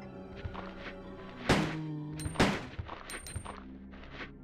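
Gunfire in the PS1 game Resident Evil 2: a few sharp, punchy shots with short echoing tails, two louder blasts in the middle amid lighter thuds and clicks, no talking.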